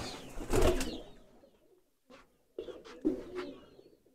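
Pigeons in a loft of champion racing birds coo in short, soft bursts close by, with a fuller throaty call at the start and a few quieter coos after a pause.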